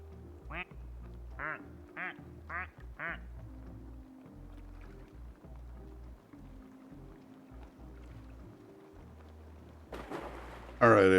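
A flaming duck in a video game gives five short, evenly spaced quacks early on, then a low game soundtrack hums beneath until a burst of louder noise at the end.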